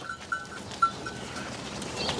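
A goat on an Indian goat farm raising Sirohi and Ajmeri breeds bleats in a series of short, thin cries. They are faint and fairly close, with no talk over them.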